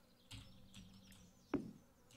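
Bees buzz around a bee house placed by the water in the Stardew Valley farming game, a faint low hum with a few soft game clicks and one brief louder blip.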